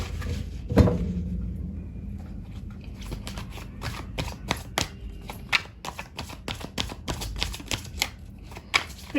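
Tarot cards are shuffled close up in quick, uneven riffles and slaps that build into a brisk, repeated flutter after one sharp snap near the start.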